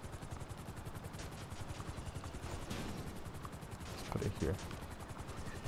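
A helicopter in GTA 5 Online gives off a steady, fast rotor chop throughout, with a few bursts of gunfire-like cracks near the end and a brief voice over it.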